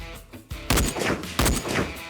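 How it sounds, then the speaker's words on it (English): .270 rifle fired at an outdoor shooting range: two sharp, loud reports about a second apart, each with a brief rolling echo. "Just let that 270 fly. Fair shot, Trace Bang."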